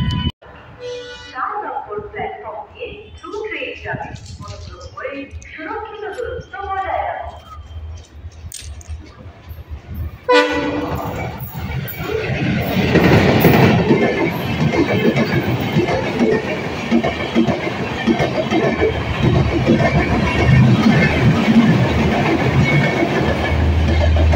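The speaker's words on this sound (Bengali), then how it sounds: "আমাদেরকে আজ দেখাবো বাংলাদেশের ট্রেন" The Maitree Express, a Bangladeshi train, passes at Barrackpore, first approaching under people talking, then a loud, steady rumble and clatter of wagons rolling close by for the rest of the stretch.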